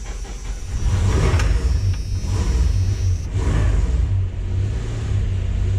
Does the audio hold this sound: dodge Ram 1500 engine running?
yes